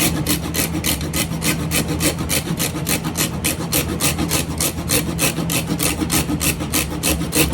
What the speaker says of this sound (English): I'm just gonna grate this cinnamon stick right in here to get the amount of cinnamon that I need